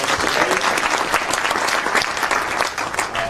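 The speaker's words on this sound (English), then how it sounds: "Let's give George Mason a great round of applause for hosting" Loud, continuous applause from a crowd of business leaders at George Mason University during a gubernatorial campaign event, dense clapping filling the whole stretch with no talking.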